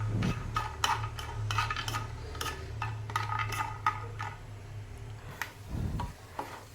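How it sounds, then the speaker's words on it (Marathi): Sharp crackles and pops from peanuts roasting in hot oil, with scraping stirs and clicks of a utensil against a pan over a low hum. "थोडंसं तेल घेतलेलं आहे दाणे मी पहिल्यांदा परतून घेणार आहे"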